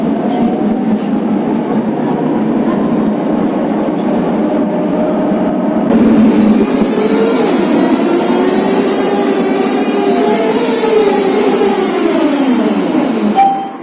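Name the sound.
Bratislava tram with Eastern European DC pulsing drive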